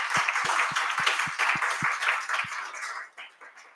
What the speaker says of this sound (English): Can we give John a round of applause, please